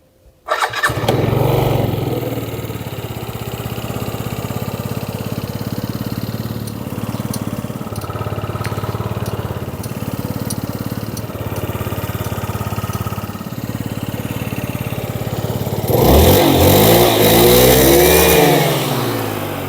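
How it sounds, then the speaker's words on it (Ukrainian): A Yamaha Jog SA36 scooter engine idles steadily up close with a rattly putter, then revs loudly near the end. "Двигун працює без жодних нарікань."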